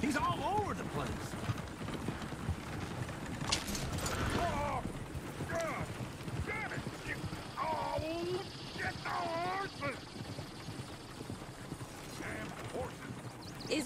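Horse hooves clip-clop in the Western open-world game Red Dead Redemption 2 in Valentina town, quiet irregular steps with rattling tack under character voices and background game sounds.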